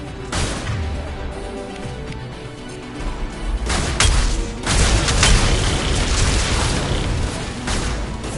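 A grenade blast in Mass Effect 2 combat: a loud boom around four seconds breaks over a low rumbling battle bed, followed by sustained crashing, gunfire-like noise to the end.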